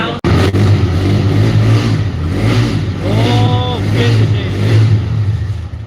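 A TVS Raider motorcycle engine runs with a steady low hum throughout, while people talk close by over it.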